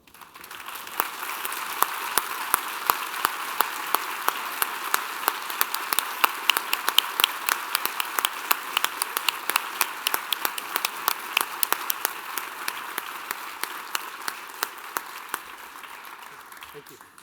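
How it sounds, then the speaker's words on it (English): Graduates at a 2016 high school commencement applaud their teachers, a sustained wash of crowd clapping with sharp individual claps standing out nearby, swelling and then tapering off toward the end. "join me in applauding the teachers for their sage wisdom and expert craftsmanship"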